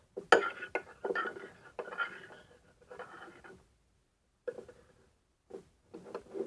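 Homemade slime from a stationery slime kit being stirred in a container, heard as close sticky scraping and tapping strokes in irregular bursts with short pauses, no talking.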